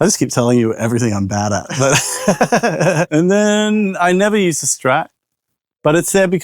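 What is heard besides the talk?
No everyday noises stand out.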